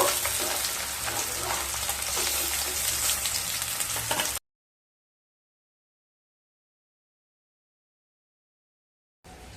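Pieces of katla fish sizzle loudly in hot oil for about four seconds, then everything falls silent before a brief burst of frying returns at the very end.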